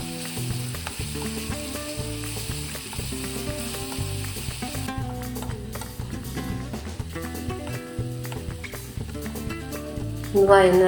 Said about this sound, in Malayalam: അതിലേക്ക് 2 പച്ചമുളകും കുറച്ച് കറിവേപ്പിലയും കൂടിയും ചേർത്ത് നമുക്ക് വഴറ്റിയെടുക്കാം